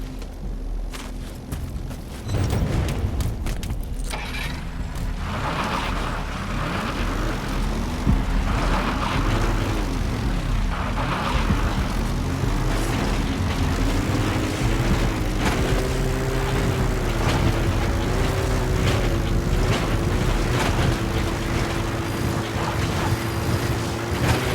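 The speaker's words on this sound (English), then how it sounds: "That's an enemy gunship." Enemy gunship in Metal Gear Solid V, a sustained rotor and engine roar that swells and wavers as it passes overhead, loud and continuous with no voices.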